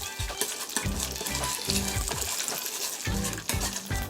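Meat frying in oil on an LG DIOS induction cooktop, a continuous close sizzle broken by repeated rhythmic scraping and clacking as the pieces are stirred and separated.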